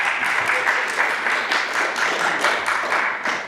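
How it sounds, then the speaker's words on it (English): Applause from a church congregation at a Sunday service, a steady patter of many hands clapping for a few seconds at moderate distance. "Yes, you can applaud."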